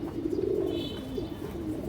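Silver pigeons of a good bloodline coo in a continuous low, throaty drone that stays fairly loud and even throughout, with no talking over it.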